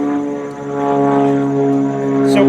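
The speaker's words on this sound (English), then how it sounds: "sorry for the planes, but it's outside" Propeller airplanes drone loudly overhead outside, a continuous humming roar that swells and fades slightly over a few seconds, with no talk.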